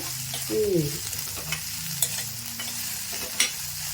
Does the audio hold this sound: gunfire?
no